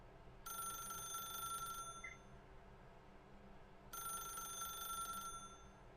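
A telephone rings twice inside the video game The Stanley Parable, each ring a bright, trilling bell burst lasting over a second, separated by a pause, fairly faint over a low background hum.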